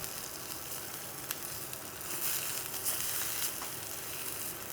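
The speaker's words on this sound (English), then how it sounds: "Tomatoes, I'm just gonna add these right to it because I want to blister them a little bit and might as well use that hot pan." Tomatoes blistering in a hot pan, a steady sizzle and crackle with a few sharp pops, faint and close, with no voices.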